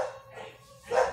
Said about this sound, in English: My dogs were like barking at a truck.